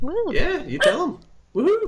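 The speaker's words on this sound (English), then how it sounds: "Yeah, that's my dog." A pet dog barks and yips in short bursts close by, its barks overlapping with a man's cheerful exclamations and talk.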